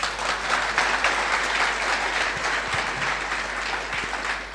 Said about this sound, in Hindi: कुछ समझ में आया तो ताली बजनी चाहिए